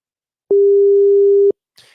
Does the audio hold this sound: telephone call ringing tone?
yes